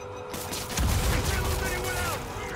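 Enemy gunmen fire bursts of gunfire and blasts in the Spider-Man PS4 game, a loud, dense volley kicking in early and rattling on with sharp, repeated cracks over a constant background hum.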